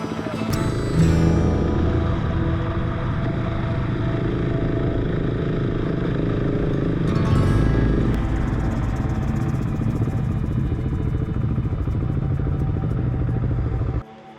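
Adventure motorcycle riding a rough dirt trail with washouts, its engine droning steadily and loud throughout with some clatter over the bumps, alone with no talk, ending abruptly.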